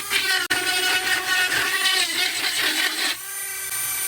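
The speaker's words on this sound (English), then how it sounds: "Time to let the Dremel cool off a little bit." Dremel rotary tool carving into a wooden walking stick, a steady high whining grind with shifting pitch as the bit digs in, briefly dipping near the start and easing to a lower hum toward the end.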